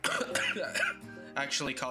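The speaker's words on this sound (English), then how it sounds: "that's an ugly cough" A person coughs harshly a few times, the rough bursts mixed with strained voiced sounds, close and fairly loud.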